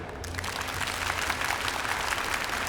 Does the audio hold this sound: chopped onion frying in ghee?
no